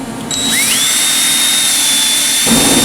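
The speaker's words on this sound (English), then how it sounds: "take a wire brush on my drill here" A power drill spins up and whirs steadily at high pitch, a wire brush grinding loudly against the metal of 1985 Dodge Ram manifolds, then the tone shifts near the end.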